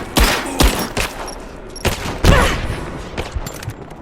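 Gunfire in a Rise of the Tomb Raider battle: a series of sharp, loud shots at irregular intervals, some in quick bursts, with echoing booms and crackling debris between them.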